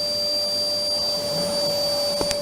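A Vax Power 5 Pet upright vacuum cleaner runs steadily, a loud constant whine with a high tonal motor hum and airy rush, close and alone without speech.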